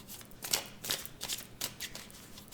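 Tarot cards being handled and laid over another card, a series of five or six soft papery flicks and slides at close range, quiet with no talk.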